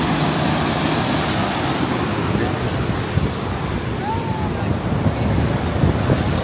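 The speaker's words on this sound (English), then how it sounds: "Man, the water is super violent today." Churning river water rushes violently over the Fairmount Dam on the Schuylkill River in Philadelphia, a loud, constant roar buffeted by heavy wind noise on the microphone.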